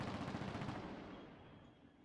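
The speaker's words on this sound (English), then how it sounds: "that was gunfire. Automatic gunfire" A burst of automatic gunfire in the zombie survival game Project Zomboid, heard as a rapid rattling volley that starts loud and fades away over about two seconds.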